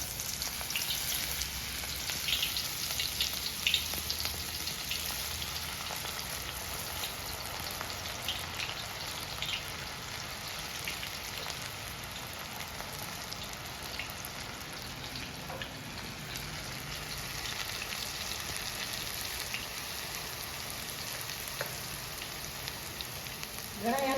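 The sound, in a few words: kumbhaniya bhajiya fritters frying in hot oil on a stove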